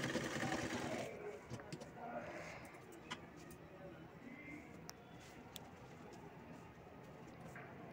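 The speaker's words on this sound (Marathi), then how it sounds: "तर इथे मी वन साइड अशी शिलाई करून घेणार आहे" A sewing machine stitching one side of fabric for a potli bag runs loudly and close for about a second, then a lower mechanical hum continues with faint pigeon cooing and distant traffic behind it.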